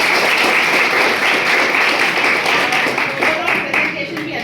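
Audience applause for a practice lecture presentation, a steady dense wash of clapping running throughout at close range, with some talking mixed in.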